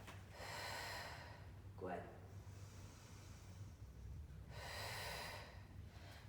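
Heavy breathing during a Pilates exercise, with two long noisy exhalation bursts near the start and end and a sharp gasp-like breath in between, close and fairly loud over low room hum, with a brief spoken word.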